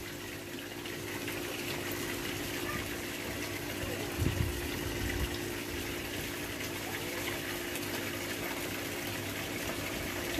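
Fresh water runs steadily into an aquaponics fish tank, a continuous gushing, splashing wash heard up close, with a brief louder burst partway through.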